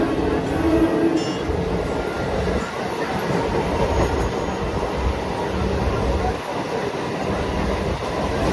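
Loud, continuous rumble and clatter of a passenger train heard from on board, with wheels rattling over the track and rushing wind throughout.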